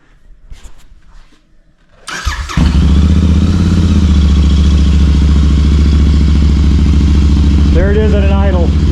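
A Royal Enfield Continental GT 650 with aftermarket Zard exhaust fires up and settles into a loud, steady, deep idle close by, after a moment of quieter rustling.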